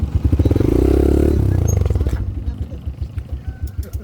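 Dirt bike engine on an enduro trail, loud and close with a sustained throaty drone that swells then drops into a choppy, pulsing idle-like putter; people talk nearby.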